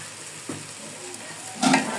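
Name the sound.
frying rice with ginger paste and salt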